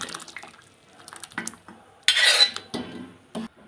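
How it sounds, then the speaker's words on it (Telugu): A spoon clinks and scrapes against a pot while soft cooked dal for drumstick dal stew is stirred, with sparse metallic knocks and a brief wet splashy burst close by. "స్పూన్తో ఇలా కలుపుకోవాలి"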